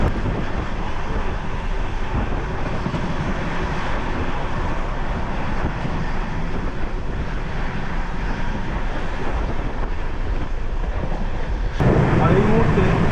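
The Howrah–Chennai Mail passenger train runs along Chilika Lake near Balugaon, heard from onboard as a loud, continuous rumbling roar with wind buffeting and a sharp jolt near the end.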